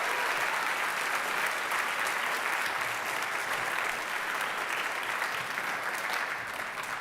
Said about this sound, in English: So please give a round of applause to our attorneys here today.